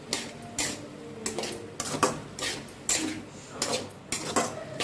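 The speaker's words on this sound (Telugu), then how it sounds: "ఇప్పుడు బాగా మిక్స్ చేసుకుందాం." Drumstick sambar mixture being stirred in a pot: a spoon scrapes and clinks against the metal rhythmically, repeated close-up strokes with no talking.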